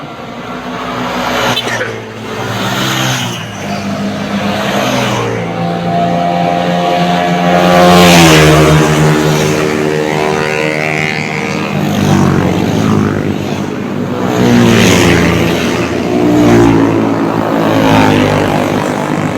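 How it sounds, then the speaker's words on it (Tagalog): Roaring engines with loud exhausts whine past continuously, their pitch rising and falling as fast cars speed by, with a voice speaking faintly underneath. "Grabe, ang bibilis, ang ingay ng mga tambutso."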